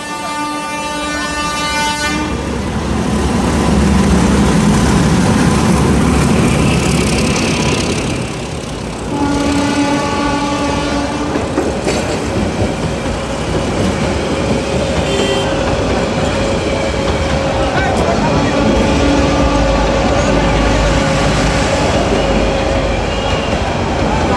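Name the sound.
Narayanganj commuter train passing a rail gate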